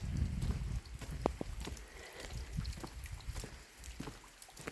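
Rain falls outdoors on a wet farmyard, making soft pattering drops and scattered ticks close by, with a low rumbling burst at the start and a quiet, steady wash throughout.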